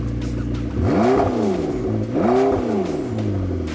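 A 2015 McLaren 650S Spider's engine revs twice close by, each time climbing sharply from a steady idle and falling back, loud and alone with no talk.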